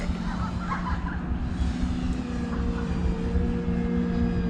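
E-flite Carbon Z Cub SS giant-scale RC floatplane in flight, its motor and propeller giving a steady, continuous drone with a constant pitch from start to end, no voices over it.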